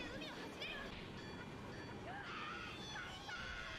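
A steady, faint rumble of a passing train in the One Piece anime with high whistling squeals drifting over it, continuous throughout.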